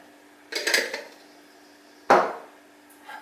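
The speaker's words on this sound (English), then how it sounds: "I'm going to put some of my favourite sweetener into the cup, some Rapadura. I like a nice rounded teaspoon in there." A teaspoon of Rapadura sweetener going into a cup, heard as two distinct clinks and scrapes of metal against the cup with quiet pauses between and a faint tap at the end.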